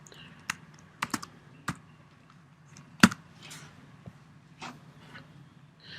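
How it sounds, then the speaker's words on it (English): Keystrokes land on a computer keyboard as text is typed into design software, sparse irregular clicks with pauses between them and one sharp louder tap, heard up close in a quiet room. "you're going to type whatever text you want"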